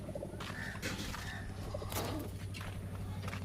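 Pigeons coo softly and continuously inside a loft, a low murmuring drone that runs steadily throughout with no talk over it.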